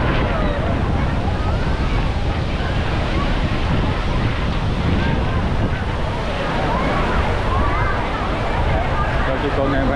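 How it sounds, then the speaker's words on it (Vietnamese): Rough sea waves pound the Vung Tau shore during a high storm tide, a loud, continuous roar of surf mixed with buffeting wind noise and faint background voices. "sóng dữ dằn luôn"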